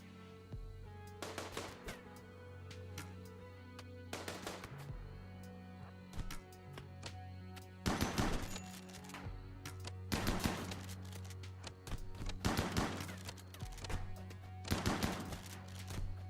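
Gunfire in the colony game RimWorld, sharp clustered shots in irregular bursts over a steady humming music drone, growing denser toward the end.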